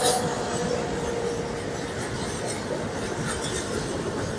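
An Indian passenger train hauled by a powerful locomotive rumbles along with a steady, dense roar of wheels and carriages heard from on board, continuous and loud with faint clattering and no talking.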